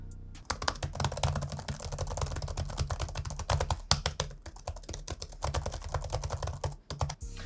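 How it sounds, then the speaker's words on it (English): Rapid, light key clicks patter steadily from a Surface Laptop 2 keyboard close by, a dense run of typing with brief pauses and no voices. "When typing with the Surface Laptop 2, this is how it sounds like."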